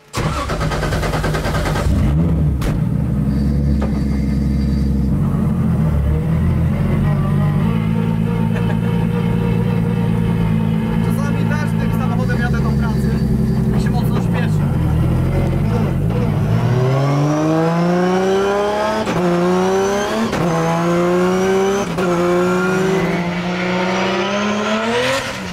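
A Nissan 200SX starts and pulls away, its engine droning steadily before revving up through several rising gear pulls, loud and close throughout.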